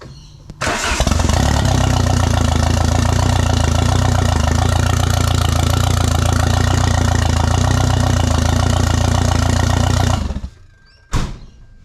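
A Nissan Pulsar N13 turbo with an EK engine and noisy exhaust starts up and idles loudly and steadily with a rough, throbbing rumble for about ten seconds, then cuts off, followed by a brief final blip.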